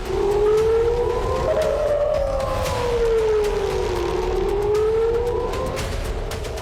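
Air raid warning sirens in Israeli cities wail loudly and continuously, their pitch rising and falling in slow sweeps, with a second siren faintly layered beneath.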